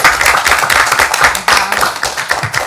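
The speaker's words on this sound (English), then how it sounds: "Let's give them a warm round of applause." Clapping from attendees at a town board meeting, a fairly close, uneven patter of hands lasting a few seconds, with some background talk mixed in.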